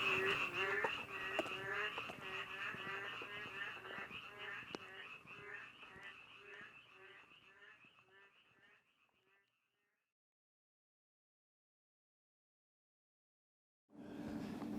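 Frogs croak at night on Jeju Island, Korea, in a dense overlapping chorus of rapid pulsed calls that gradually fades to silence before a brief loud return at the end.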